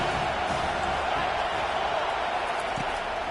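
A football stadium crowd roars for the defense on third down, a steady, broad wall of cheering and noise held at an even level with no break.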